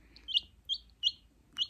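Newly hatched chicks peep in short, high, bright chirps, four distinct calls spaced evenly and close by over a quiet background.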